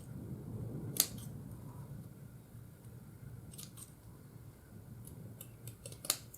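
Small craft scissors snip thread ends close to a little silver bell, giving a few sharp, isolated clicks spread over a quiet background.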